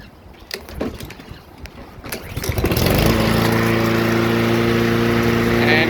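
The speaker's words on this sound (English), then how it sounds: "So yeah, it's a nice mower. I'll show you how it starts up." A Husqvarna LC 221A lawn mower with a Honda engine being started: rattling pull-start attempts give way to the engine catching and settling into a loud, steady running drone nearby.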